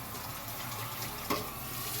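Grated potatoes are rinsed in water for hash browns, a steady rushing of running water with a faint splash partway through, close and continuous.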